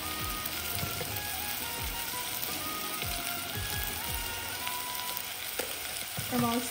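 Mixed vegetables sizzle in oil in a pressure cooker while a spoon stirs them, giving steady frying crackle and soft, irregular scraping strokes.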